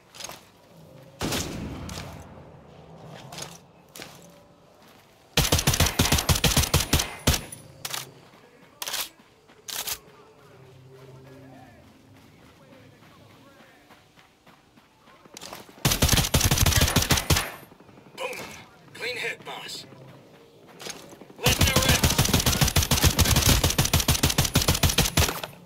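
Gunfire in Ghost Recon Breakpoint, several loud bursts of rapid automatic fire separated by quieter stretches with scattered single shots, mostly without talk.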